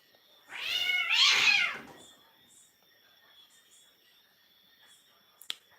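A house cat gives one drawn-out meow close by, rising and falling over about a second, then quiet room tone with a faint click at the end.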